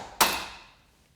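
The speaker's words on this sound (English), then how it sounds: "Tap a palette knife against the back of the hinge cover." A metal palette knife taps once against the back of a door hinge cover, giving a single sharp, close knock that rings briefly and decays over about half a second, with nothing else heard.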